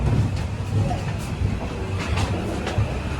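Passenger train on the Bhavnagar to Haridwar route rumbling steadily, a low continuous roll with faint clicking and brief higher squeals on top, heard from inside a coach.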